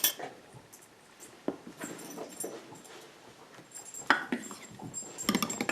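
A puppy moving around in a kitchen, giving off scattered light jingling and clinking in the background along with soft dog whimpers and scuffles, fairly quiet and intermittent.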